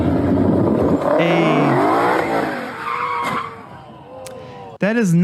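A Ford Mustang GT500 skids under throttle while turning, tires squealing in rising and falling wails over a loud engine, then a sharp screech near the end, with voices over it.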